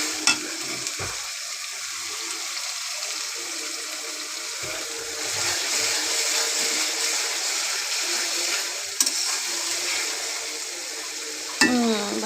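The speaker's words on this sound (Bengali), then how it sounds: "পেঁয়াজ আর কাঁচামরিচ বাটাকে ভালো করে ব্রাউন করে নিতেছি।" Onion and green chili paste browning in a pan, a steady hissing sizzle with a few sharp utensil clinks and scrapes of stirring, close and moderately loud, without talk.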